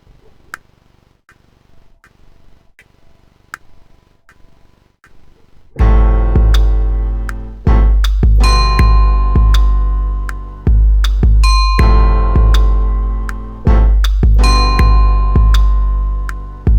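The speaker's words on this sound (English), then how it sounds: "This is just a default piano for Sonar, and then I'm gonna play in some chords so you guys get the full, keyboard experience." A default software piano in Sonar sounds bright sustained chords played on an Alesis VI49 keyboard, struck every second or two over a quiet ticking metronome heard alone at the start.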